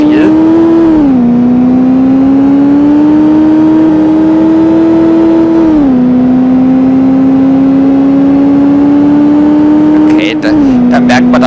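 A VW Golf II GTI with 140 hp in a driving simulator, engine held at a steady high rev with brief dips as gears shift during a hard launch start, loud and close with someone talking over it.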